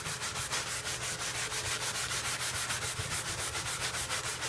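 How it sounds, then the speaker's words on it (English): A surface gets scrubbed by hand with BKF cleaner, fast rhythmic back-and-forth rubbing strokes, close and steady, with no voices. "And scrub, scrub, scrub."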